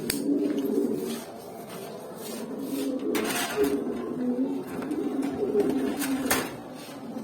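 Pigeons coo steadily and close by in a loft, their soft repeated calls overlapping throughout, with a few faint clinks and shuffles in the background.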